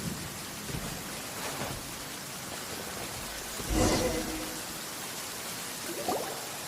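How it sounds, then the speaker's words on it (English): Steady rain pours in a Genshin Impact game scene, with a rumble of thunder swelling midway and fainter rumbles before and after, all continuous with no talk. "If this rain keeps up, my fur will be dripping wet."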